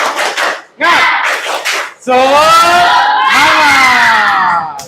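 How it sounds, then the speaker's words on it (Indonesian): A class performs a rhythmic spirit-clap cheer, bursts of patterned clapping followed by loud voices chanting together in unison, energetic and close. "Tepuk semangat. Semangat."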